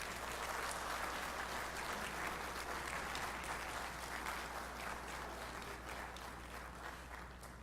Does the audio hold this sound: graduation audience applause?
yes